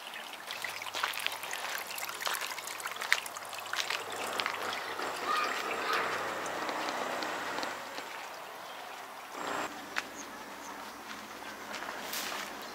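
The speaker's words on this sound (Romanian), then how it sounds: "aici nu este oprită, apa circulă, circulă fix" Water runs steadily through an ancient falaj irrigation channel beneath a street in Nizwa, Oman, a continuous broadband trickle and gurgle at moderate level with a few brief knocks and footstep-like taps.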